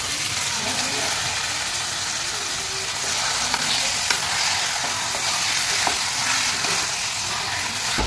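Marinated chicken sizzles and fries steadily in hot oil with a large chopped onion, a constant loud hiss with occasional faint stirring clinks.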